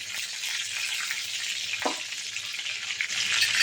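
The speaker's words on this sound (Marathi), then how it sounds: "आता जिरे जरा चांगले तडतडू द्यायचे. आवाज आला पाहिजे तडतडलेला." Cumin seeds crackle and sizzle in hot oil for a Maharashtrian prawn masala, a steady, dense frying hiss with tiny pops throughout and one brief thicker crackle, close and fairly loud.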